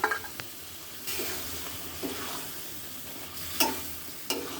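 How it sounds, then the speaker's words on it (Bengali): Chicken skin and feet fry in oil with cooked spice paste, giving a steady sizzle broken by a few sharp clinks and scrapes of a spoon stirring against the pan, heard close with no talk. "আমি এটাকে সুন্দর করে 2-3 বার ভাজা ভাজা করে ভেজে নেব, লাল লাল করে"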